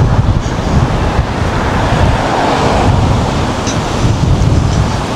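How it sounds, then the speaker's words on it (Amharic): Strong wind sweeps across a large city bridge, a loud, continuous roar of gusts buffeting the microphone with no voices. "የልጅቷን ኮፍያ ራሱ ሊያወልቅባት ነው ንፋሱ"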